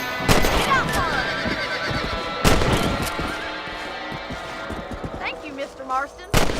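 Horse whinnies in the Red Dead Redemption video game, high neighs rising over busy game ambience with sharp gunshot-like cracks and hoof-like knocks, fairly loud and up close.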